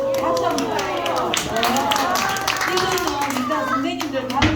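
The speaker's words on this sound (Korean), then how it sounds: "박수 한번 주세요" Children at a Sunday church service clap in scattered, lively applause, close and sustained for several seconds, mixed with children's voices and chatter.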